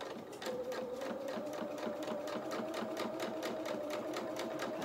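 A sewing machine stitches doll bloomers in a steady, fast, even rhythm of needle strokes, close and continuous throughout, with no talking.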